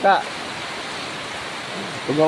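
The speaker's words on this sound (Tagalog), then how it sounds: "Grabe lakas ng ulan." Steady, dense heavy rainfall hisses evenly throughout, near a boat, with brief bursts of voices at the start and end.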